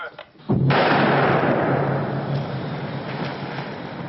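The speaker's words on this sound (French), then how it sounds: "le service de déminage des armées a procédé à l'explosion d'une bombe américaine datant de la Seconde Guerre mondiale" A controlled detonation of an American World War II bomb, buried under sand and straw bales by military bomb disposal, gives a sudden loud boom followed by a long, heavy rumbling roar that slowly fades.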